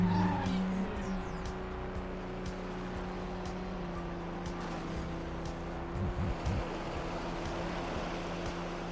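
A racing car engine in the video game Hot Wheels World Race drones steadily while tires squeal and skid through a drift, sustained and fairly close, with no talk over it.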